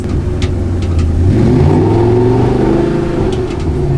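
A car engine revs hard and steadily while the car drifts in circles around a post during a drifting lesson, the loud engine roar rising and holding throughout with no talking.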